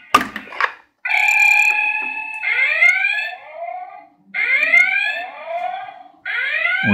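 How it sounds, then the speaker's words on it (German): The red alert alarm of a Playmobil Enterprise starship toy blares loud and close, with repeated electronic rising and falling siren whoops separated by brief gaps. "Und schon ist roter Alarm."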